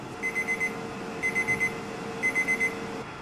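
A digital timer beeps after being started for a 15-minute wait on a test, three evenly spaced bursts of four quick high beeps each, loud and close with nothing else around.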